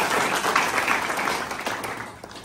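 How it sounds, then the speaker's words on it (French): Audience applause for the technicians at the closing ceremony of a PNL and professional coaching fair in Ouagadougou, a dense wash of many hands clapping that holds steady and then gradually fades. "Est-ce que vous pouvez applaudir pour nos techniciens?"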